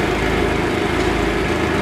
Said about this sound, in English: this tractor powers these drums that spin that Basra head around really fast and beat it against the sides